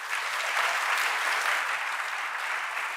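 A church audience at a Friday evening worship service applauds: dense, even clapping from many hands that holds steady and fairly loud for the whole stretch.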